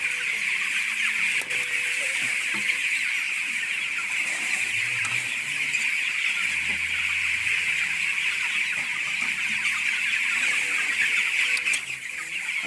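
Farmyard chickens cluck and squawk steadily throughout, fairly close and loud, with a rooster's calls mixed in over a constant bright hiss of ambient noise.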